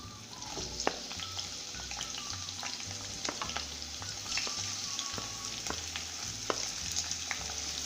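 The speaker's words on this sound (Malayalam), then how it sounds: "ഇപ്പോൾ വെളിച്ചെണ്ണ ചൂടായി, ഇതിലേക്ക് 4 സവോള അരിഞ്ഞ് വെച്ചത് ഇട്ട് കൊടുക്കാം." Four sliced onions fry in hot coconut oil in a kadai, a close crackling sizzle with scattered pops and regular stirring underneath, no speech.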